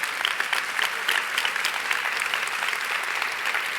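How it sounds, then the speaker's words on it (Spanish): A church congregation applauding during a sermon, dense, steady clapping from a large crowd close by, filling the whole stretch with no voice over it. "Iglesia, creo que usted pueda aplaudir un poquito mejor que eso."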